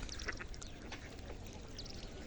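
Several ducks quack faintly and intermittently in an open rural spot, the calls thin and distant over a soft, steady background hiss.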